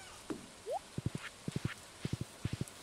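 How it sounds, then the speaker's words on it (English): A horse's hooves clip-clop in the video game Stardew Valley, in quick groups of three evenly spaced beats repeating at a galloping rhythm, crisp and close, with a brief rising game sound near the start. "I think the horse does run a lot faster"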